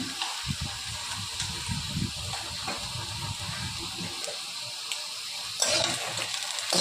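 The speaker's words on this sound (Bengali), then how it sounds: "ভাজা ভাজা করে নেব" Dried kechki shutki fish fry in a pan with salt and turmeric, giving a steady close sizzle with scattered stirring scrapes and a brighter burst of hissing near the end.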